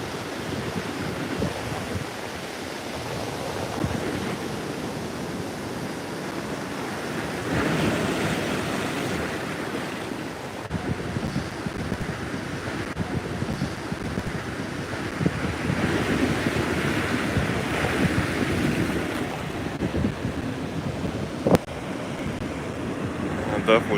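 Rushing, churning water pours into an inlet at Bethany Beach during coastal flooding from Hurricane Erin, with steady surf noise and wind buffeting the microphone, continuous and fairly loud throughout.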